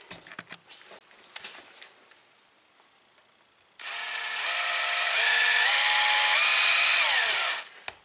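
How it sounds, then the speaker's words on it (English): A power drill cleans out holes in an engine part from a 1996 Geo Prizm's Toyota 1.6/1.8L engine. Quiet handling sounds come first, then a loud, steady, close drill whine runs about four seconds, its pitch shifting as it works. "So I'm just going to take a drill and clean out all those holes."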